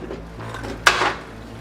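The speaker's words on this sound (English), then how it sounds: "I need to move this crock pot out of the way" A crock pot shifted aside on a kitchen counter, a single sharp ceramic clunk and scrape close by, followed by a short settling rattle.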